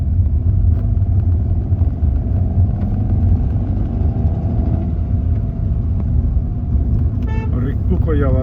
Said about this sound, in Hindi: इंजन रेव करता है ना जब सेकंड गियर पे चढ़ाते हैं।